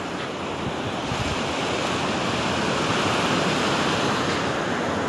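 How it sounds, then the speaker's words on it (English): Saltwater surf crashing on a winter beach, a loud, continuous roar of breaking waves and wind buffeting the microphone, with no voices over it. "I don't know if you can hear me over the waves or not"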